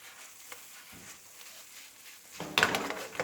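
Fresh handmade pasta dropped into a hot pan with garlic scape pesto: a quiet start, then a burst of sizzling and a clattering pan toss near the end, close up.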